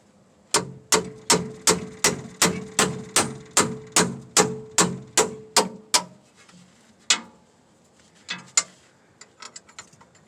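Steady metal-on-metal hammer blows on a Ford F-150 universal joint, about fifteen in a quick even rhythm, then a few scattered strikes and clinks after a pause.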